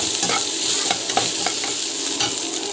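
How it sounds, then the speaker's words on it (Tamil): Garlic and chana dal sauté in a pan with a constant soft sizzle. A spoon stirs through it with a few scraping strokes, close by and with no talking. "பூண்டு போட்டு நல்லா வந்து வதக்கிட்டோம்"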